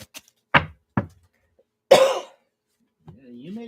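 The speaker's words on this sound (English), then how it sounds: "Now you're coughing too?" Several dry coughs and a throat-clearing burst in quick succession, close and loud in a quiet room, followed by a short stretch of someone talking.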